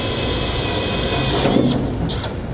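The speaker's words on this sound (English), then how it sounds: "We're going to use a 7/8" hole saw. Now be careful when you're drilling" A power drill with a 7/8 inch hole saw cuts into the bed of a 2017 Chevrolet Silverado pickup, a steady loud whining grind with a few rough catches near the end, up close.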